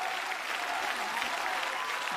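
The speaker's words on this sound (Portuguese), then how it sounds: "Uma salva de palmas" Audience applause for dancers of the Balé da Glória on a TV variety show stage, a steady dense clapping that holds at an even level throughout.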